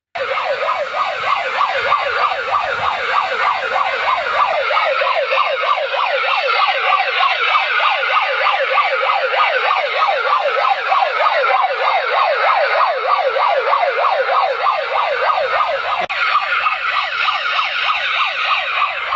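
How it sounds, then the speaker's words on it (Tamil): Recorded siren sounds blast through a loudspeaker over farmland, a loud, continuous wail warbling rapidly up and down, harsh and band-limited, steady throughout with no talking. "சைரன் சவுண்டு உள்ளிட்ட ஒலிகளை பென்டிரைவில் பதிவு செய்து ஒலிபெருக்கி மூலம் ஒலி எழுப்புகின்றனர்"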